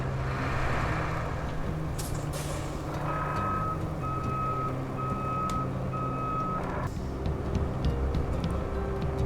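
Heavy construction truck in the road-building simulator RoadCraft, a low steady engine rumble with a bright, evenly spaced reversing beeper sounding for several seconds in the middle.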